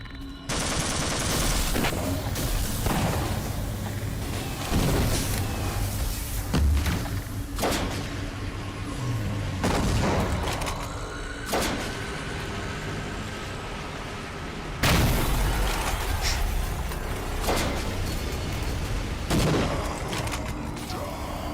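Gunfire in the Black Mesa video game: repeated sharp shots and bursts spread across the clip, some close and loud, with mechanical clatter and rumbling between volleys.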